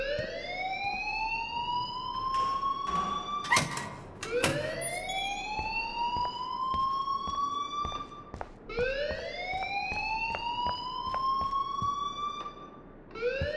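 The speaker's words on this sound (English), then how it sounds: "please turn off that alarm since that's your job." A fire alarm rings in the Life is Strange game, a rising electronic whoop repeating every few seconds, with sharp clicks and bangs scattered between the sweeps and no voices over it.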